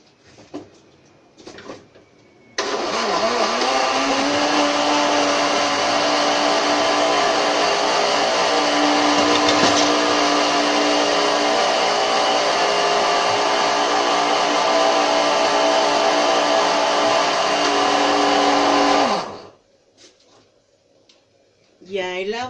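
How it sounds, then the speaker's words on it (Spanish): A kitchen blender grinds corn masa in cold water, a loud steady motor whir running for about seventeen seconds after a few short bumps, then cutting off abruptly with a brief sound at the end. "vamos a moler la masa en la licuadora"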